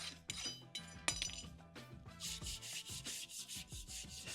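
A blunt clenching rasp rubbed over a horse's hoof while fitting an aluminium race plate: a quick run of rhythmic scraping strokes, close and steady, with no speech.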